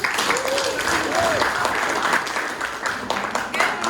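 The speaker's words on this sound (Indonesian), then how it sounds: "tepuk tangan untuk kelompok 1" Audience applause for a student group's presentation at a school video competition, continuous clapping throughout with a voice heard briefly over it.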